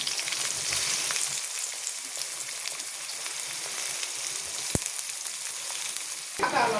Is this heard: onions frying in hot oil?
yes